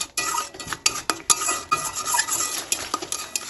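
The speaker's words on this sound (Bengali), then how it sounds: "সব কিছু দু থেকে তিন মিনিট তেলে নাড়াচাড়া করে নিয়েছি" Masala paste with salt, turmeric and dried chilli is stirred in oil in a pan for a chicken curry. A metal spoon scrapes and clinks against the pan in quick, close strokes over a faint sizzle, with no talking.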